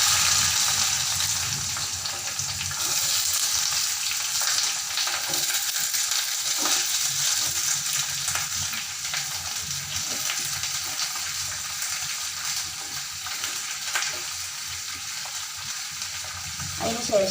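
Four onions hitting hot oil in a pan for onion chutney, a loud continuous sizzle and crackle with occasional stirring scrapes, steady throughout.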